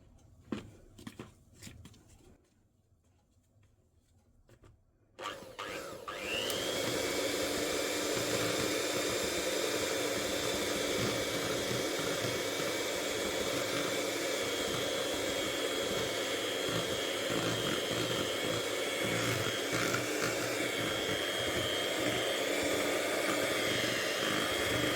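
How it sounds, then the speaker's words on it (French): An electric mixer blends orange cake batter, starting after a few quiet seconds of handling noise and then roaring as a loud, steady whir that holds for the rest of the clip. "Et on va mixer dans un premier temps tout ceci."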